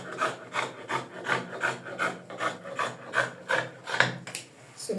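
Fabric is cut with scissors to a 20-inch length for a crop top, giving a steady run of repeated rasping snips and slides close by, about ten strokes in an even rhythm with no talking.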